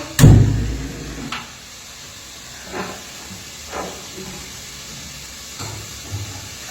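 Fish frying in hot oil: a sharp, loud spatter burst right at the start, then a few scattered quieter pops over a faint, steady hiss, with no talking.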